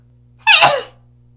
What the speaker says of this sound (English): So gotta sneeze.